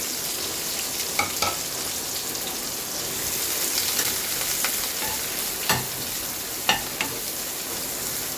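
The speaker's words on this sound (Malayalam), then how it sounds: "ഈ സവാള നന്നായി ഒന്ന് മൂപ്പിച്ചെടുക്കാം." Sliced onions frying in a pan for a masala for Kerala chicken roast, a steady close sizzle with occasional sharper pops and stirring scrapes, no talking.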